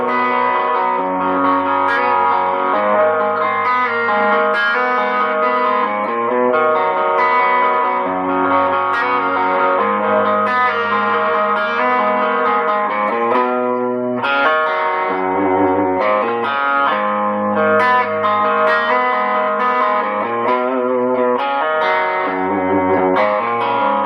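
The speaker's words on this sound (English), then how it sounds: "And the Timmy Drive sounds like this." An electric guitar runs through a Timmy Drive overdrive pedal with the gain set past noon, playing continuous crunchy, articulate chords and riffs, loud and alone.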